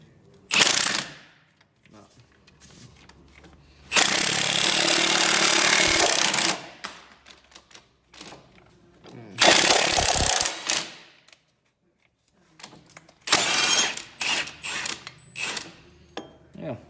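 Impact wrench rattling off ball joint bolts on a 2008-2020 Dodge Caravan, in several loud, close bursts of hammering with quieter pauses of clanking between them.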